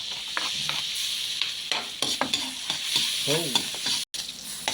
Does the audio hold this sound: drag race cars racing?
no